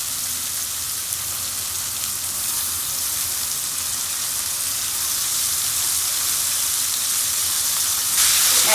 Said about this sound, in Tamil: இப்போ நான் கழுவி வச்சுருக்கிறேன், இந்த சிக்கனை போட போகிறேன்.